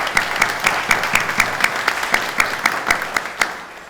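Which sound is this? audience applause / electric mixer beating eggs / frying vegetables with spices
audience applause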